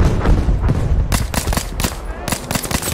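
Gunfire in Battlefield V during a sniper match, a rapid string of sharp shots over constant battle noise, with a few louder cracks standing out near the listener.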